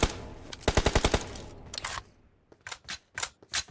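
Gunfire in the PUBG Mobile video game: a rapid burst of automatic shots followed by a few more scattered single reports, sharp and close.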